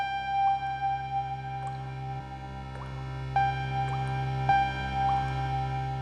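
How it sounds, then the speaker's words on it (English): Offbeat dripping plinks sit in a music track over sustained omnichord chords, a steady series of bright droplet-like notes recurring about every second, clear and moderately loud against the held tones. "and some offbeat dripping"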